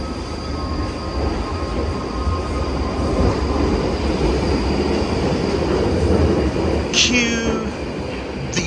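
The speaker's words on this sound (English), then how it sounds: "This is the Northern Line train going to Moorgate." London Underground Northern Line train at Moorgate, a loud, continuous rumble of wheels and carriage with rattling and a brief high squeal near the end, heard from on board.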